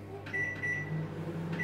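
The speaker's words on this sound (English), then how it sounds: "I'm putting them in the microwave." A microwave oven running steadily with frozen Brussels sprouts inside, giving a continuous low hum and whirr with a faint high tone, close by and with no talk.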